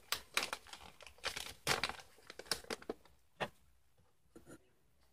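Wrapping paper being folded and pushed down around an oddly shaped gift, a close series of crisp crinkles and papery rustles in irregular bursts, growing sparser toward the end.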